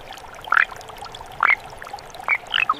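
Young frogs raised in shallow farm tanks with gentle flowing water give short, loud croaking bursts, about four separate calls spaced over a faint steady trickle.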